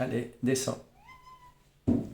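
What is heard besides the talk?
cat meowing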